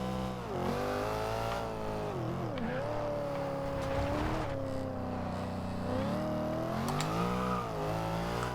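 A 2014 Chevrolet SS in Forza Horizon 2 drives hard with a loud, steady engine drone that rises and falls through gear changes and revving, with no talking over it.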